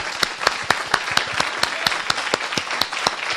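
Church congregation clapping in praise, a fairly quick rhythmic beat of distinct, sharp claps over a softer bed of scattered applause, moderately close and steady for several seconds.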